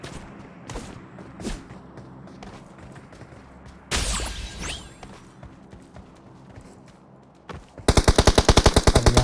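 Gunfire in the PUBG Mobile video game: scattered shots and bursts over a steady game background, then a loud, rapid automatic burst at the end.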